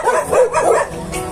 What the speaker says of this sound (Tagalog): Dito, maraming aso.